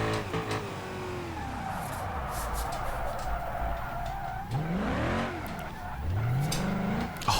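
A car drifts through turns in BeamNG Drive, driven with a racing wheel. The engine revs rise and fall in sweeping arcs, with tire squeal and skidding running continuously.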